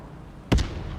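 A single sharp blast from a recoilless rifle in the video game Broken Arrow, a short loud burst with a quick follow-up crack, standing out from quiet game ambience.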